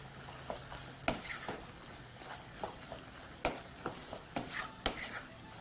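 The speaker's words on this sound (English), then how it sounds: "All you need to do at this stage is continue to mix through right up until your tomato puree is completely absorbed in the mixture." Beans in a pot being stirred with tomato puree and stock, garlic and onions for Kenyan coconut beans, heard as a quiet, irregular series of wet scrapes and knocks against the pot with a faint simmer underneath.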